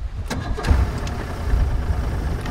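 Outboard engine on a restored Bass Cat bass boat idling roughly and unevenly, a steady low rumble with a few sharp mechanical clicks early on, running poorly with a sticky throttle.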